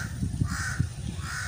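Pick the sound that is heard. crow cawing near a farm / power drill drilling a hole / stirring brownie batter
crow cawing near a farm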